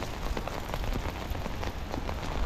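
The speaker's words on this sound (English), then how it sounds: "It's supposed to continue raining all day" Steady rain patters densely on the ground and surfaces close around someone walking outdoors in California, a continuous even hiss with no voices.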